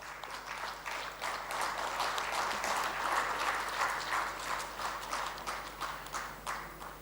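Sustained audience applause at a felicitation ceremony during a university industry-academia conclave valedictory session, dense steady clapping from a full hall throughout with no talk over it.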